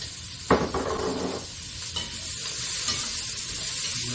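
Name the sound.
diced onion frying in olive oil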